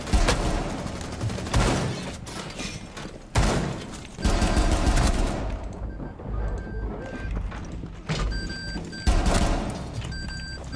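Gunfire in the video game Rainbow Six Siege, with bursts of rapid shots and sharp impacts scattered across roughly eleven seconds, loud and close, separated by brief quieter gaps with faint electronic tones.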